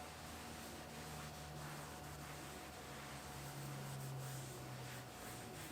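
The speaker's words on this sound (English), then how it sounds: "We're just going to wipe the excess off." Soft, steady rubbing and wiping of a microfiber towel over a white Tesla's interior surface, continuous and close, with faint background hum and no talking.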